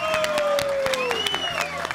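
A studio audience at a televised cooking competition applauds steadily while music with a sliding tone plays and a presenter speaks over it.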